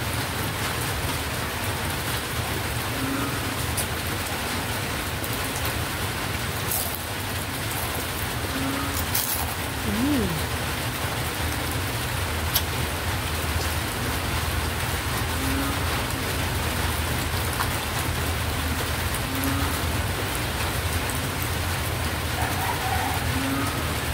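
Heavy rain pours steadily and loudly, a dense unbroken hiss of drops drumming on a surface, with a few faint, brief chirps and knocks in the background and no voices.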